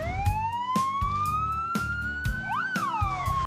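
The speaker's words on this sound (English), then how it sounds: "The police car and the ambulance are helping each other." Wailing emergency sirens from a police car and an ambulance rise and sweep in overlapping tones, with rhythmic bursts of engine noise beneath, loud and close throughout.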